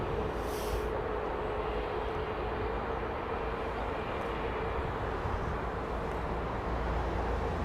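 A jet aircraft taking off at London Heathrow, heard as a steady, loud broadband engine roar that fills the whole stretch without letup.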